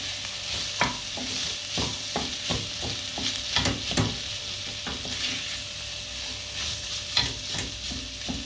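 Tomato paste is stir-fried in a pan for a pea stew, giving a soft steady sizzle broken by repeated scraping and stirring taps of a utensil, with no talking.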